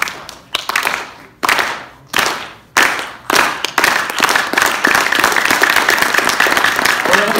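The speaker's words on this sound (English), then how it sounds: "we're gonna do a slow clap" At a Quran recitation evening, an audience does a slow clap: about six loud, evenly spaced claps that each ring briefly, then speed up and blend into continuous, dense applause.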